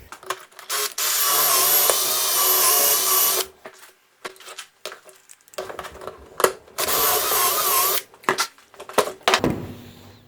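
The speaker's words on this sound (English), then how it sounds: "So let's drill that now." A drill boring pocket holes with a Kreg Jig Mini runs in loud, close bursts with short pauses between them, biting through wood with uneven whirring.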